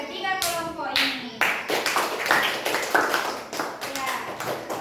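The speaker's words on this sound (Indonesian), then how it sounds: "tepuk tangan dulu untuk ketiga kelompok ini" Students in a classroom clap for three student groups. The clapping comes in bursts, sharp and fairly close, with scattered taps and a teacher's voice between them.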